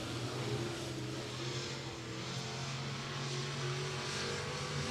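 The K54 race car circles Beckley Speedway in West Virginia during qualifying, a distant steady engine drone with a low tonal hum, faint and continuous with no voices.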